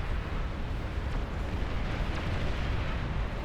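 Cannon fire explosions in the real-time strategy game Beyond All Reason form a dense, continuous rumbling barrage with occasional sharper pops layered on top, with no voices.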